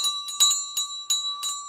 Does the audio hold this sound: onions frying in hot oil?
no